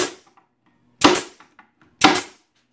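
Pneumatic stapler driving 1.25-inch narrow crown staples into a wooden beehive pallet: three sharp, loud pops about a second apart, each with a short rattling tail.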